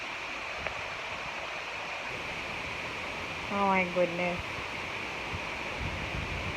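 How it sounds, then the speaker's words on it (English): Heavy rain falls outside a sixth-floor apartment as a steady broadband hiss throughout, with a person briefly exclaiming partway through. "I'm here on our apartment, 6th floor, and it's heavy rain."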